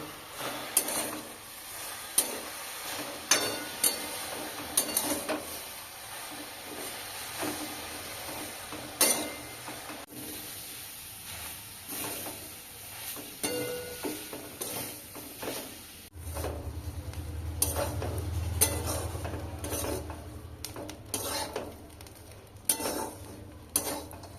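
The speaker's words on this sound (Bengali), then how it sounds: "ভালো করে ড্রাই রোস্ট করে নেব।" Ingredients being dry roasted in a pan, with a spoon stirring and scraping against the metal in irregular close strokes and a soft low sizzle rising toward the end.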